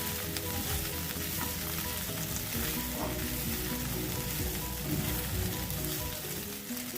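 Chicken 65 frying in a pan, a steady, dense crackling sizzle that stays loud and even throughout, with faint stirring.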